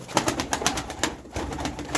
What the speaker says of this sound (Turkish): Bak yine başladı bu kuşlar